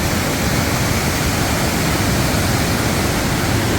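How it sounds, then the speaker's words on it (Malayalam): A river rushes strongly beneath a bridge near Athirappilly, a loud, unbroken roar of flowing water filling the whole stretch with no other sounds. "ഇത് അടിയിൽ കൂടി നല്ല ഒഴുക്കിലാട്ടോ വെള്ളം പോണേ."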